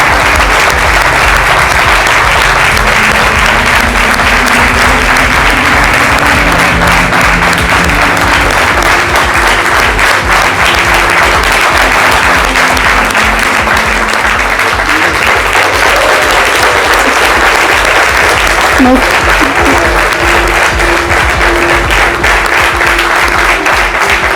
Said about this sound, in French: Sous les applaudissements de notre cher public